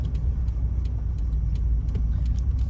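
A 1988 Volvo 740 GL drives along back roads, its engine and road noise forming a steady low rumble heard from inside the car, with faint ticking and rattles over it and no talking.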